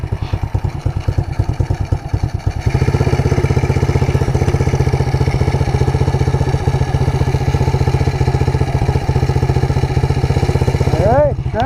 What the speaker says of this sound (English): Alright, it's running.